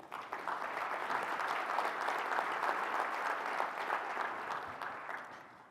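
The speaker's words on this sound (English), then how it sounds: "you should give yourselves a round of applause" An audience at a large education convening applauds steadily and loudly, a dense wash of clapping that holds for several seconds before easing slightly at the end.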